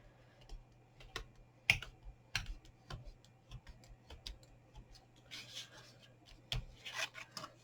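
Folded, still-wet paper pieces are burnished with quick rubbing strokes and small tapping scrapes, a quiet irregular series of dry swipes and clicks heard close with no talk.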